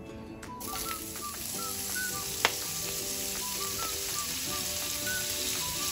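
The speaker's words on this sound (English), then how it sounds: "So for the spinach, we've got a pan hot with some extra virgin olive oil. We're going to drop in the spinach first." Spinach sizzles in hot extra virgin olive oil as a steady crackling hiss with scattered pops and one sharp click, alone and without talk.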